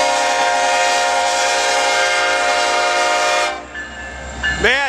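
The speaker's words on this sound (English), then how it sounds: "Man, that's a loud horn." Loud, close CN freight train horn blasting steadily at a railroad crossing in Trenton, Michigan, cutting off sharply after about three and a half seconds as rail noise continues, followed by a brief rising tone.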